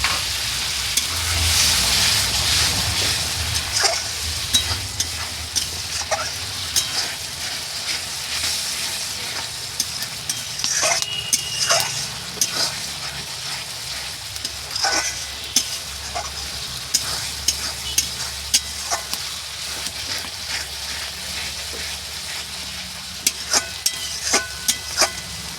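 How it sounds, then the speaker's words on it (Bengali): A spice paste loosened with water is sautéed and stirred for a country chicken curry, with a strong, continuous close sizzle and frequent spoon scrapes and taps against the pan, louder at the start and steadier later. "এই মশলাটা একটু জল দিয়ে ভালো করে কষে নেব।"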